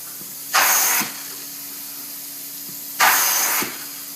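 Carpet spot cleaning machine rinsing with acid rinse metering in, two loud spraying hisses of about half a second each, separated by a quieter motor hum with faint clicks.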